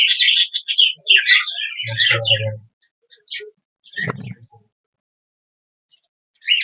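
Several high, thin chirps from young budgerigars in quick bursts, close by, followed by sparse calls and a few quiet gaps.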